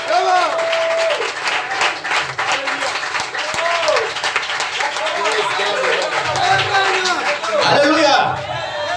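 A church convention congregation claps and cheers loudly for several seconds, with a dense, continuous wash of applause and crowd voices rising and falling together.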